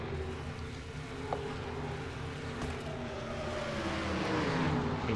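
Stock cars from a NASCAR-style racing video game roar past on the track, a steady layered engine drone with rising and falling pitches as several cars run close together, growing slightly louder toward the end.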